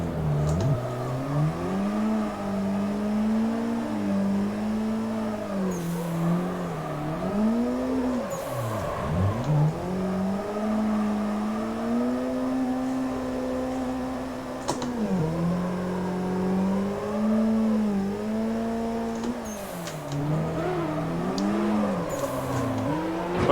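Drifting car in Assetto Corsa with an engine held at high revs, its pitch dipping and rising as the throttle is lifted and reapplied, while tire squeal comes in and out. The sound runs loud and steady throughout, with no talk.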